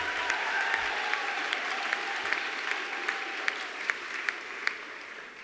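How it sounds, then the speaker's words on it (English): A large crowd claps at a university graduation ceremony in Bedfordshire, making sustained, even applause that holds steady for several seconds with a few sharper claps standing out. "we have had better rounds of applause from other ceremonies"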